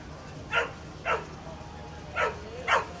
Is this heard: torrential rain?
no